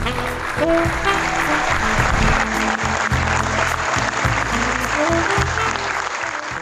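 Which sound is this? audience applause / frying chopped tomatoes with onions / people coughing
audience applause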